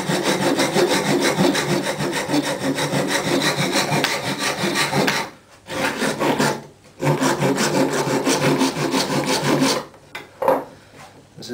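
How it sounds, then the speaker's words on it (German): A rasp scrapes wood in steady, rhythmic back-and-forth strokes, loud and close, pausing twice before a few final short strokes. "Das ist jetzt erstmal grob vorgeraspelt"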